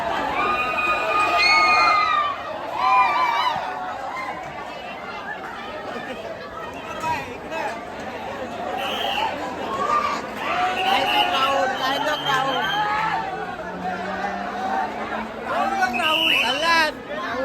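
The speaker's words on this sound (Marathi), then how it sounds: "एवढी गर्दी आहे इथे स्टेशनला" A dense crowd chatters and shouts on the platform at Chinchpokli railway station, with children calling out over a continuous babble. A low rising hum, like an approaching train, builds underneath toward the end.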